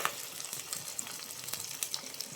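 Medium-sized onion frying in a pan for an Easter fish curry, a soft steady sizzle with faint crackles and light stirring scrapes throughout, no voices.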